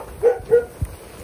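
A dog barks twice in quick succession, then gives a short lower yelp, moderately near, in an outdoor cooking setting with faint background noise.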